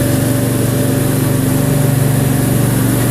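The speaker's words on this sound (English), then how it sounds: "It's drilling 2 holes," A drilling rig bores two deep 20-inch holes, about 40 feet down, for hydraulic elevator cylinders in a parking garage; its engine drones loud and steady with a fast pulsing throb throughout.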